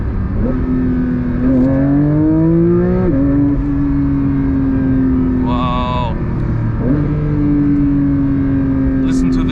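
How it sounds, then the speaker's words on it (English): A Porsche 911 GT3 (992) naturally aspirated engine revs up and down in strong rising and falling sweeps, loud and close, with brief gear changes between pulls. "Naturally aspirated engine."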